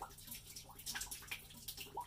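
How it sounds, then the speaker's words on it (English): Water draining from a disconnected pipe near a hot water heater, a faint, steady trickle with small splashes and drips close by, continuous and without speech. "Let that pipe finish draining out there."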